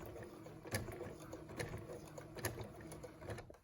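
Sewing machine stitching a run of fabric face masks fed one after another, a steady close mechanical whir with rhythmic clicks and brief louder bursts, no talk.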